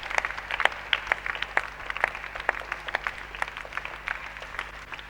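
A congregation at a Pentecostal church Christmas service claps in a dense, continuous patter, fairly soft and somewhat distant, with no clear talking over it.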